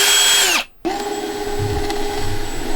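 A power drill whines loudly while drilling a pilot hole for a caravan diesel heater install, stops briefly, then spins up again and runs steadily, close by, with no talking.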